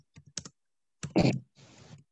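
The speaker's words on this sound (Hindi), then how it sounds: "ये हमने टाइपिंग करी" Typing on a computer keyboard, a few scattered key clicks followed by a louder burst of keystrokes and a softer run of clatter, close up with no voices.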